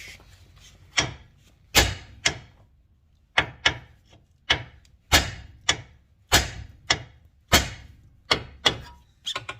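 Repeated heavy hammer blows striking a seized lower control arm on a Kia Sportage or Hyundai Tucson, about a dozen sharp impacts in an uneven rhythm, close and loud with quiet gaps between.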